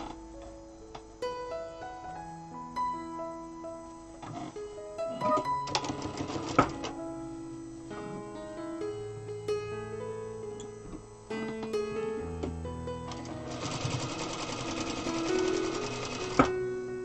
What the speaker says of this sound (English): Now I sew it together on the other side.